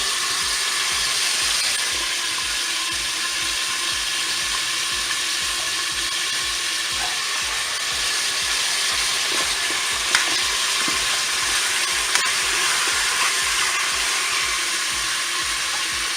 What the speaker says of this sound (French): Je vais maintenant ajouter les oignons.